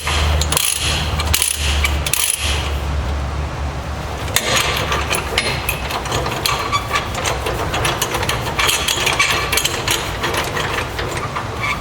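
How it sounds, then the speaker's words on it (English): A hand-run ratchet on a trailer load binder clicks steadily and close, a continuous busy mechanical chatter that carries through the whole stretch without pause. "I like to put the ratchet on the binder right in the middle and just run it by hand."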